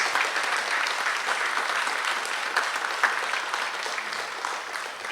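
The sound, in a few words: applause for National Honor Society inductees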